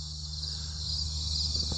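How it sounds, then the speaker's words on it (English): Crickets chirp outdoors before dawn in a steady, shrill, continuous trill with a low background hum beneath, moderately loud and unbroken. "listening to these annoying ass crickets"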